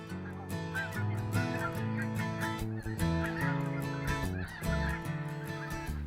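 White-fronted geese give a chorus of overlapping honking calls, clear and fairly near, as they tumble down to land.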